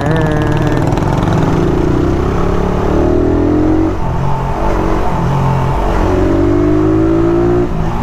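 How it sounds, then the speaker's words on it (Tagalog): A misfiring Rusi Raider 150 carburetor motorcycle engine revs unevenly, sputtering and surging with rough, irregular pulses close by, with no talking. "Palyadong motor ko"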